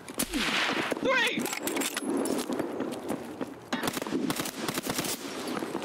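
Gunfire in the video game Escape From Tarkov on the Reserve map: a run of sharp shots scattered through a busy mix, with excited player talk over the top.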